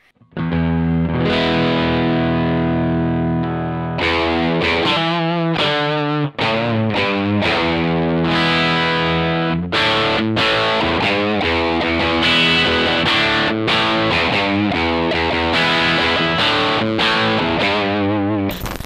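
A heavily distorted electric guitar plays chords and short riffs through an AMT O2 amp-style pedal in its Orange-like setting, thick and crunchy, loud and continuous with no voices.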